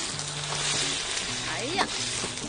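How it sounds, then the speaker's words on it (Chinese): Pork intestines sizzle loudly in a hot wok as beer is poured in, a bright crackling fry with scraping stirs, while a voice talks under the cooking. "啤酒下锅增添风味儿"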